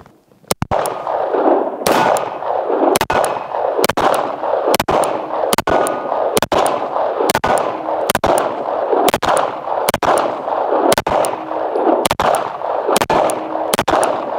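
Repeated single gunshots from a firearm being test-fired, about a dozen sharp loud cracks roughly one second apart, each followed by a lingering reverberant tail, with no talking between shots.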